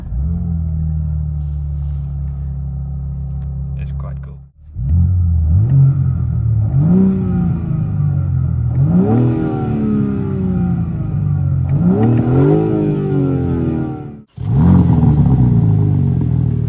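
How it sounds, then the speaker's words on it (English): BMW G82 M4 Competition starting up, then revving loudly several times in rising and falling sweeps, with a brief cutoff and a second start near the end; close and loud, with a short spoken remark. "when we start the car"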